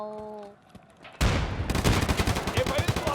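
Gunfire in the video game Escape From Tarkov: after a brief quieter moment, loud rapid automatic bursts erupt and continue steadily to the end, close and dominant.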